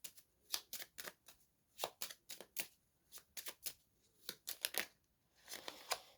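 A deck of cards is shuffled by hand for a five-card draw in a daily energy reading, making quiet, quick bursts of riffling and slapping in an irregular rhythm, close up and with no talk.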